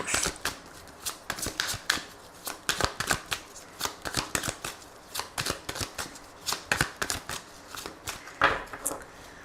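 Tarot cards being shuffled by hand in repeated quick riffling bursts with crisp, papery slaps, close and steady throughout, with no talking.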